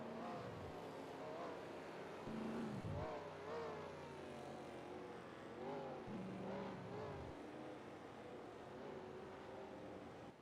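Race cars run on track at the Red Bull Ring, engines droning steadily with repeated rising and falling revs as gears change, heard at a moderate distance under a constant mechanical hum.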